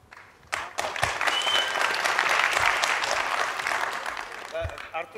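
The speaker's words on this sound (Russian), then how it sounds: "это не тебе хлопают" Sustained audience applause at a Russian MMA fighters' press conference, steady clapping filling the room for several seconds after a sharp start, with brief voices and a couple of louder claps near the end.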